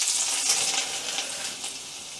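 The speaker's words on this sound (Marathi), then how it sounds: "आता यामध्ये मी लसूण टाकून घेते" Garlic drops into plenty of hot oil with mustard seeds for a spicy tomato bhaji, giving a bright, steady close-up sizzle that eases slightly toward the end.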